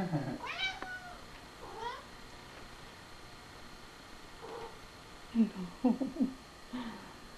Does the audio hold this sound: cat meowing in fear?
yes